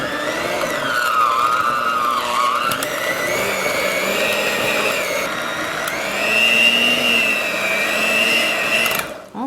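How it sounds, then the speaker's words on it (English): Electric mixer beaters whirring steadily through an appetizer mixture in a home kitchen, a loud continuous motorized whine with shifting pitch that runs nearly unbroken before cutting off abruptly at the end. "I want to blend this or beat this up. So I'm going to make some noise here"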